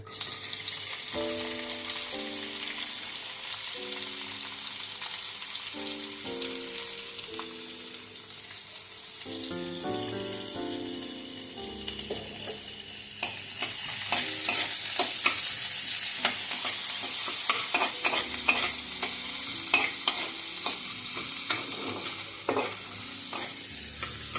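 Onion fries in a pan for thukpa, a steady sizzle that grows louder and busier partway through, with frequent scraping stirs and clicks, while melodic background music plays early on and no one speaks.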